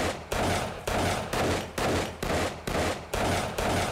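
Desert Vulture pistol fired repeatedly in the zombie game 7 Days to Die, about eight loud booming shots at a steady, moderate pace, each with a sharp crack and a short decaying tail.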